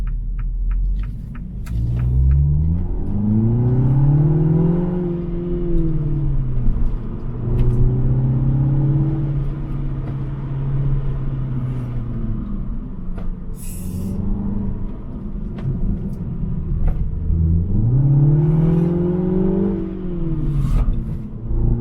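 Mini Cooper S cabriolet pulling away after a U-turn, its engine rising and falling through several revving gear pulls, near and fairly loud with a deep rumble and tire and road noise, no speech.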